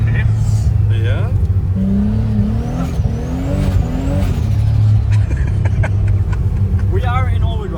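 A turbocharged 1300 hp Nissan Patrol engine revs and roars up and down close by in all-wheel drive on a ski slope, with rising and falling whines and tire noise, and no one speaking.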